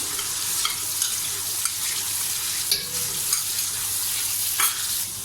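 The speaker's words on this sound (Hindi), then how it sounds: "ऑयल गर्म हो जाए तो आपने इसके अंदर वो जो हमने दही में मसाला बना के रखा था वो डाल दें इस तरह से" A yogurt and spice masala hits hot oil for restaurant-style chicken karahi, producing a loud, continuous hiss and crackle with a few soft scraping stirs.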